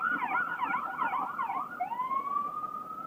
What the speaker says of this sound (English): Hamden ambulance.